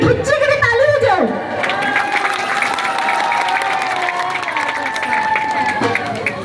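An audience breaks into loud, sustained applause at an opening program, many hands clapping together with some cheering, following a brief spoken call.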